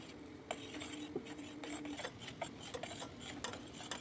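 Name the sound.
stirring tea leaves into caramelised sugar in a pan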